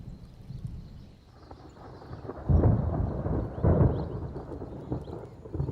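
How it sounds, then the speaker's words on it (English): Thunder from an approaching summer storm out in the wild, deep rumbles rolling in from a distance and swelling into two heavier booms over low ambient noise. "The approach of the first summer storms charges the air."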